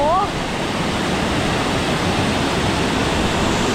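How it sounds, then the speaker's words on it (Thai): Dense, steady rushing of a large waterfall, Chet Si Waterfall in Bueng Kan, Thailand, broad and constant with no pauses. "เป็นน้ำตกที่สวยอลังมากค่ะ"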